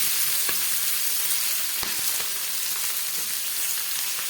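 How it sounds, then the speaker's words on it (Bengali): Fried bata fish sizzles in hot oil as slit green chilies and tomato go into the pan, giving a steady, dense hiss with a few faint pops and clinks. "মাছগুলো দু পিটি ভাজা হয়ে গেছে এবার দিয়ে দিচ্ছি চেরা কাঁচা লঙ্কা আর দিয়ে দিচ্ছি কিছুটা টমেটো"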